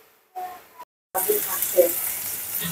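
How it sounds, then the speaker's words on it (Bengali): Ginger-garlic paste and spices sizzling as they are sautéed in a pan for a pabda fish curry, a steady close hiss after a brief quiet start, with a voice talking over it. "এই যে মশলা, সব মশলা দিয়ে কষিয়ে নিচ্ছি"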